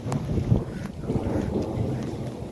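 Strong wind blows during a thunder-and-rain storm in Bhatiya village, a rough low rumble buffeting close to the microphone with uneven gusts and no speech.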